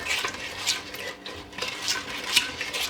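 A rigid spoon stirring hard candy ingredients in a pot or bowl, soft rhythmic scraping and light metallic clinks repeating about every second, close and fairly quiet.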